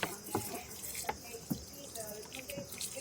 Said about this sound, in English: water it nicely so that it goes till the bottom and come out from the bottom